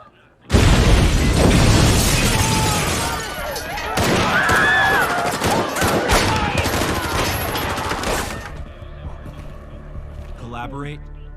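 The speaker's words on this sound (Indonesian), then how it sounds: "Sekelompok orang bertopeng menembakkan senjata mereka ke arah petugas dan para calon anggota Red Hat." A sudden burst of rapid gunfire and loud bangs erupts after a quiet start, continuing in dense volleys before fading, with voices mixed in.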